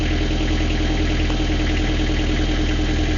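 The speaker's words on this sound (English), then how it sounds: "I'll pack away and leave the engine running for a while" Narrowboat diesel engine running steadily, left idling with a constant low, even throb and vibration throughout, close and loud, no voices.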